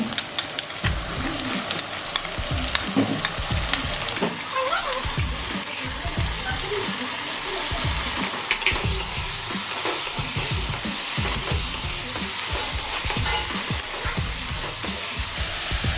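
A ginger, garlic and green chilli paste hits hot oil in a pan for fish curry, loud crackling sizzle with busy stirring and spatters that carry on steadily, no speech.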